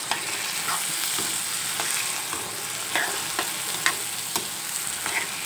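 Raw cashews and lentils stirred in a hot pan, a steady sizzle with irregular scraping strokes of a spoon across the metal, fairly close and alone without any talk.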